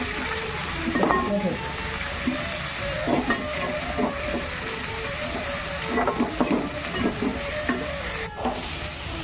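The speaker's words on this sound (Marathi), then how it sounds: "शिमला मिरची जरा शिजत आहे, कांदा शिजलाय।" Capsicum and onion fry in a pan for a soya chilli dish, giving a continuous moderate sizzle with intermittent spatula stirring and scraping, with faint voices now and then.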